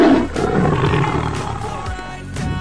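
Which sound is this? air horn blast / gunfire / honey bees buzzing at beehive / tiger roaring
tiger roaring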